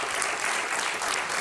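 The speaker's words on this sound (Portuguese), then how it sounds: "peço já um grande aplauso" Applause from a TV studio audience: close, even clapping from many people, sustained and bright throughout the short stretch with no voices over it.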